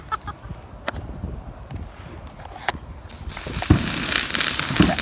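Legal consumer fireworks lit and going off outdoors, with sharp pops and crackles scattered through the clip and a building hiss and crackle toward the end; chickens are heard nearby.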